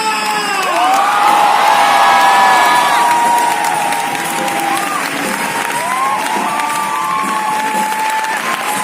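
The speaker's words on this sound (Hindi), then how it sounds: "चाहूंगा एक बार जोरदार तालियों से वेलकम करना हमारा dynamic leader, none other than mister किट्टा।" A large crowd at a business leadership event in Delhi applauds and cheers loudly to welcome their leader, dense steady clapping with whoops and shouts throughout, some voices rising above the noise.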